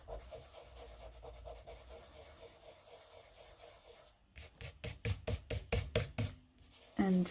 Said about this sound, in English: all you do is rub it with a finger